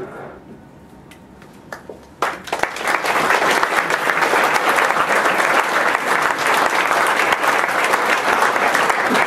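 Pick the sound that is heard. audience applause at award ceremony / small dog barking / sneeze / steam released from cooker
audience applause at award ceremony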